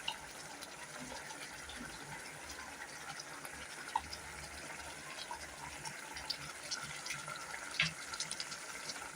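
A ground paste of cashew, green chili and milk is poured into a pan for a cashew potato gravy, giving a soft, steady liquid pour and trickle, faint and close throughout.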